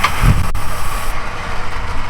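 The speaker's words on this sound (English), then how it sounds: "let me hear that exhaust a little more." Exhaust of a bagged wagon rumbles steadily at idle, a continuous low drone close by with a brief sharp break early on, no voices over it.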